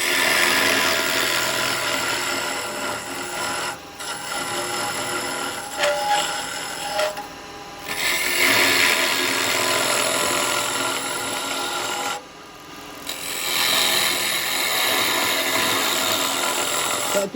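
Woodturning lathe hollowing a live-edge yew bowl, a continuous broad scraping hiss of the tool cutting the spinning wood, close and fairly loud with brief pauses, no talk.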